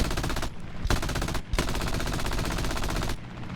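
Rapid bursts of aircraft machine gun fire in the War Thunder air combat game, three loud sustained volleys separated by brief pauses, close and dominant with no voices.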